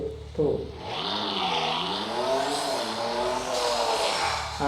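A car engine revs up and down several times at close range, its pitch sweeping and swelling loudly, with a brief quieter idle at the start and end.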